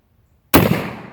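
A New England Arms 10 gauge shotgun fires a single loud blast after silence, sharp onset followed by a short rolling echo outdoors.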